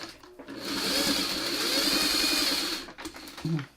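A sewing machine runs a stay stitch along a quilt block seam, a steady loud motor whir with rapid needle hum lasting a few seconds, then stopping, followed by brief handling noises.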